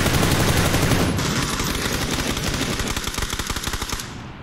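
Rapid gunfire in the battle royale game PUBG, a dense, loud, continuous burst of shots that turns into distinct rhythmic cracks before cutting off, with no talking.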